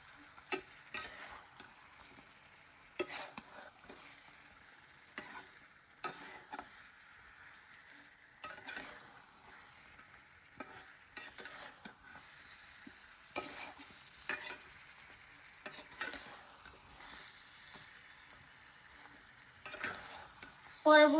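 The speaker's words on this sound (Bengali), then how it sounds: "আমরা চিকেনটাকে দিয়ে দিয়েছি, এখন আমার নাড়িয়ে নিচ্ছি" Chicken wings fry quietly in a pan while a utensil stirs them, and soft scrapes and taps recur every couple of seconds over a faint, steady sizzle.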